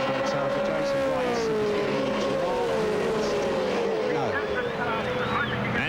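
V8 Supercars at Eastern Creek in 1999, engines screaming down the main straight out of turn 12, loud sweeping engine notes rising and overlapping as cars pass close together, with race commentary over the top.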